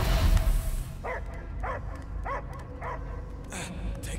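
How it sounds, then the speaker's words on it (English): A dog in the Guardians of the Galaxy video game gives a string of about six short yips and barks over a rumbling game soundtrack. "I hear only barking."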